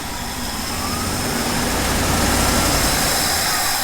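A small engine with a sticky carburetor needle and seat runs roughly under throttle, a steady loud mechanical drone that swells slightly midway and keeps going without cutting out.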